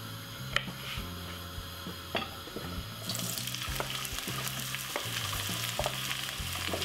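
Vegetables fry in a pan of vegetable or olive oil with a steady soft sizzle, a few clinks of utensils, and faint low background music underneath.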